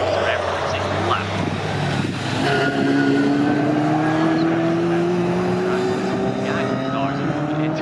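Vintage race cars from pre-1963 and 1950s classes, including a big Mustang, accelerating hard onto the straight at Snetterton circuit, with loud sustained engine drone and rising pitch throughout, under continuous commentary.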